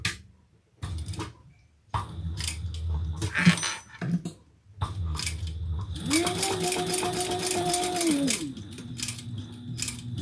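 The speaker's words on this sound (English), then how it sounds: "I'm going to start over here on my raw edge, back stitch, and top stitch." A sewing machine top stitches a waist pack, starting at the raw edge with a back stitch, running as a steady mechanical whir for a couple of seconds after scattered handling clatter and rustling.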